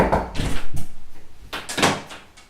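An indoor door opened abruptly without a knock, giving a few close thuds and a rattling swing that fade out within a couple of seconds.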